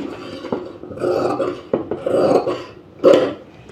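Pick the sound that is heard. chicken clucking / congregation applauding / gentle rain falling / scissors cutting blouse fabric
scissors cutting blouse fabric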